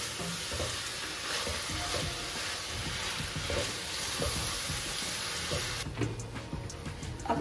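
Chicken pieces stir-fried in hot oil in a pan for Chinese rice, a loud continuous sizzle with scraping stirs and soft spatula knocks throughout.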